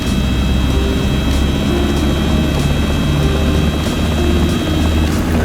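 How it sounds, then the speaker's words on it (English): A Robinson R22 helicopter in the X-Plane 12 simulator throttles up, a loud continuous engine and rotor drone with steady high-pitched warning-horn tones running throughout, with no voices. "I'm going to manually raise the throttle until that warning horn turns off"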